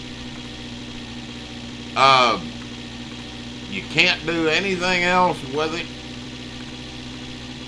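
A car engine idles steadily in the video game The Long Drive, a constant low hum running throughout while someone talks over it in bursts.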